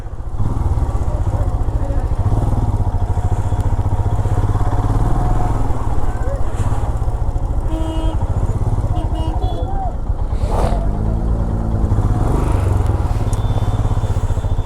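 A motorcycle engine drones loudly and steadily throughout, close by, on a ride in Gulmarg, Kashmir, with brief clatters and a voice-like warble partway through.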